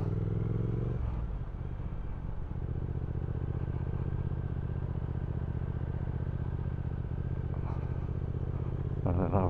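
A Triumph Speed Twin motorcycle engine thrums steadily under way on a mild morning road, a continuous low rumble with slight shifts in pitch as the bike rides along.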